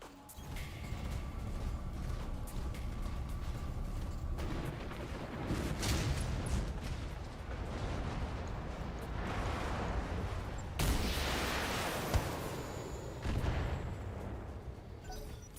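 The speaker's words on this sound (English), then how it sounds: "now Cosmo, you can focus on directly on shooting at the Jaeger mech" BattleTech mechs trade weapon fire amid a grinding mechanical din, with heavy booming blasts and crackling bursts at intervals over a continuous rumbling bed, fairly loud and with no talk.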